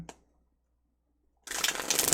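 Tarot cards are shuffled up close. Near-silence gives way to a dense, continuous riffling rustle that keeps going steadily to the end.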